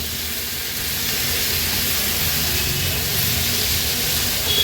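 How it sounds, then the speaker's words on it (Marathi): Bitter gourd sautéing in a pan over high flame gives a steady, close hissing sizzle throughout, with no talk. "हाय फ्लेमवर ह्याला छान एक मिनिटभरासाठी तरी परतून घ्यायचं आहे"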